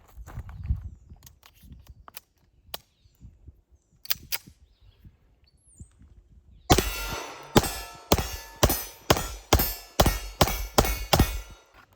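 A Dan Wesson 1911 9mm pistol with a 5-inch non-ported barrel fires about eight sharp, loud shots in a fairly quick string. Quieter handling clicks and clanks come before the shots.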